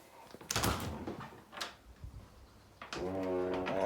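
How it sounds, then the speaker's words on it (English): A house front door opening as someone heads outside, a couple of knocks and a creaking rattle followed by a sustained low groan, close and moderately loud, with no talking. "Since you say you like weeding, let's head out the front door."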